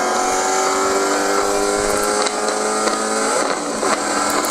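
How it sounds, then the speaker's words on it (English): Ford Mustang on the Apex Motor Club race track, its engine droning loudly and steadily close by, with brief dips and a quick shift into fifth gear near the middle and again toward the end. "When you upshifted, you're a little late off the gas and it's up into 5th."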